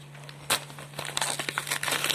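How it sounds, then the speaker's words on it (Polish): Packaging from an Allegro parcel crinkles and crackles as it is opened up close, in irregular bursts of rustling over a faint steady hum. "Dzisiaj co otworzymy paczkę, którą zamówiłem na Allegro."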